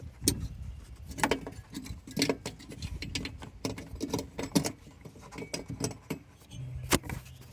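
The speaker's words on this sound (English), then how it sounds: "Replacement bulb goes in." Replacement headlamp bulb for a 2016 Scion iA being worked into its socket, with close, quiet plastic clicks, ticks and small rattles in an irregular series of light taps.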